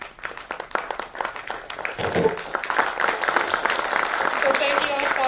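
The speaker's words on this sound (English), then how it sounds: "please give a round of applause" Audience applause and clapping at the inauguration ceremony of a power professionals' society, starting scattered and swelling into steady, sustained clapping from a crowd, with voices mixed in.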